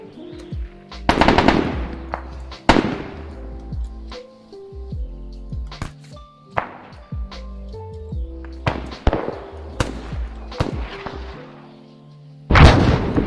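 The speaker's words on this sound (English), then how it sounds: "Are these guys actually firing?" Gunfire in the video game ArmA 3: repeated bursts of automatic weapon fire and single loud shots, some close and sharp, others more distant, spread across the whole stretch with a heavy blast near the end.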